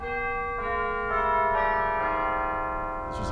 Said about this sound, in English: Those are some chimes.